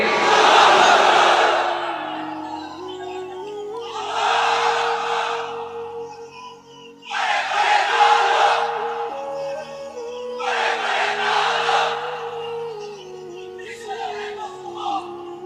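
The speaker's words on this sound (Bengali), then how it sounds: "তাকবীর পড়েন তো দেখি।" A large gathering answers a call to takbir, chanting "Allahu Akbar" in several loud, reverberant bursts separated by short pauses, with a single amplified voice over a sustained tone between the chants.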